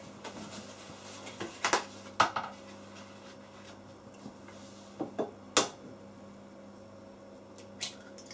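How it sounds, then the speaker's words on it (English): Two eggs cracked into a mixing bowl of whole milk for an ombre cake, a handful of sharp, close taps and knocks spread irregularly over a low steady hum, with no talking. "you want to crack in 2 eggs"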